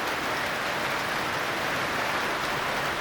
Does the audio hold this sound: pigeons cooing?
no